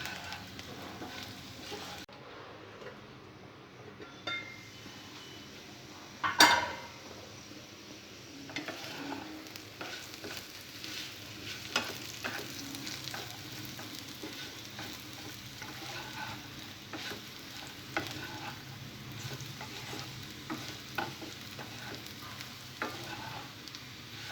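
Potato pieces fry on low heat until crispy, making a continuous gentle crackle and sizzle with scattered scrapes and taps as they are stirred, and one sharper clatter early on.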